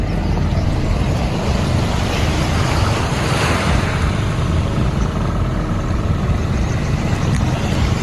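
Ocean waves at a hidden beach on a Philippine island make a steady, loud, close rushing roar with wind buffeting the microphone, and no one speaks.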